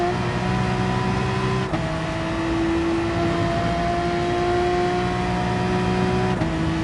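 Race car engine in Gran Turismo Sport at the Red Bull Ring, held at a steady high drone near full throttle with brief dips around gear changes, loud and continuous with no talking.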